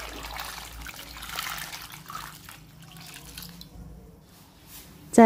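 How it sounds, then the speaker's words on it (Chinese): Tap water running into a bowl of salt-rubbed peaches being rinsed in a sink, a steady close splashing flow for several seconds, ending with a brief sharp knock. "然后再加入清水"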